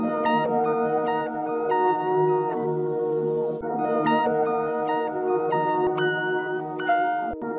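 A heavily time-stretched sample chop in an FL Studio beat, sustained smeared tonal layers with warbling stretch artifacts, loud and continuous with no talking.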